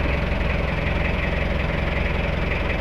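An Isuzu C223 diesel engine idling in an AUV, with a steady low, throbbing rumble and a faint knocking pulse. It is loud and close, with no voices.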